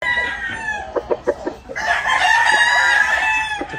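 A big rooster on a California farm lets out one long, loud crow at close range, preceded by a few short clucking calls; no one speaks.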